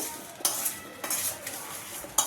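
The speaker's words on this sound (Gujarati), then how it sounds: "આપણે કેરીને મિક્સ કરી લેવાની છે આવી રીતે।" A spoon scrapes and stirs mango pieces with turmeric and salt for pickle in a bowl, giving a few sharp clinks spaced across a quiet, light shuffling background.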